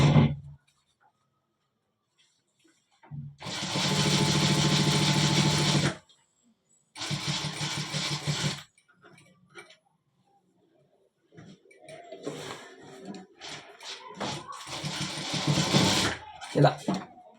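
Sewing machine stitching canvas onto a shirt cuff, heard as two sustained loud runs of steady mechanical whirring, then shorter bursts mixed with talking later on.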